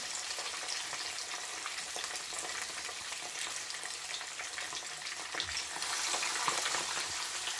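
Jamaican-style fish frying in hot oil in a pan, a steady dense crackling sizzle that grows louder and busier over the last couple of seconds, with no voices.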